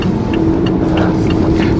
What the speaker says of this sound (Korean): 지금 이제 엔진이 깨어나는 상황인데요.